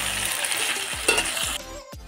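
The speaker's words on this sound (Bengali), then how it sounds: "আর আদা রসুন বাটাটা দিয়ে ভালোভাবে আমি কষে নেব।" Ginger garlic paste sizzles and fries loudly in a hot pan, with a steady crackling hiss and a few scraping stirs; the frying noise drops off sharply near the end.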